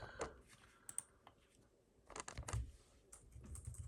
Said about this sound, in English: I can type stuff onto here